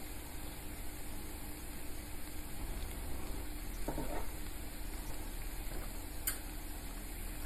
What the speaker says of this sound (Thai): ผัดทุกอย่างให้เข้ากันดีค่ะ